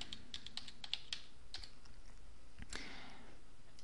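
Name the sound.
typing a page name on a computer keyboard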